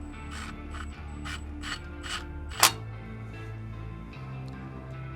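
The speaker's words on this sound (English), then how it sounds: "And I use the dynamometer key to do that." A torque wrench ratchets while tightening the front brake caliper bolts on a Range Rover Evoque during a brake pad and rotor replacement. Loud, close clicking comes in rhythmic bursts, with one sharp metallic snap near the middle.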